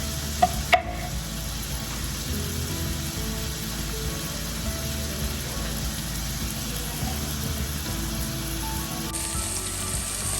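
Catfish fillets frying in a large oiled pan, a steady, dense sizzle heard up close, with a sharp clink near the start and continuous crackling throughout.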